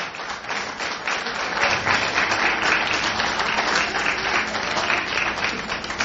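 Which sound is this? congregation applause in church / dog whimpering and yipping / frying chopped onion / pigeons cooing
congregation applause in church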